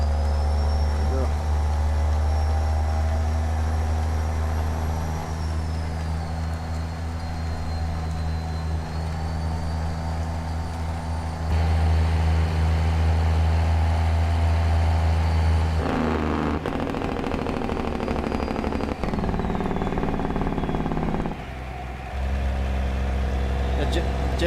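A truck engine's jake brake in a driving video game sounds as a loud, sustained low engine roar with shifting pitch as the engine slows, while a person talks over it.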